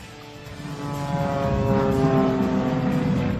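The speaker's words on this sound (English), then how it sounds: "We also have a super decathlon at Rooster Aerobatics, which is a training aerobatic plane." A Super Decathlon aerobatic training propeller plane flies at an air show at Joint Base Andrews, a steady droning engine hum with clear tonal harmonics that swells slightly louder midway, heard alone.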